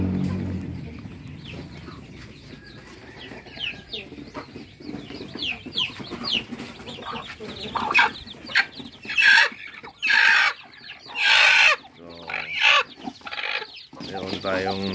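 Free-range farm chickens cluck and call in a ranging area, with several birds near and far, irregular clucks and squawks over a steady outdoor background; a voice talks faintly underneath.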